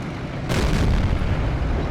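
A T-28 Prototype tank destroyer's gun fires once in a video game, a sudden loud boom that cuts in about halfway through and rolls on as a broad, sustained rumble amid steady battle ambience.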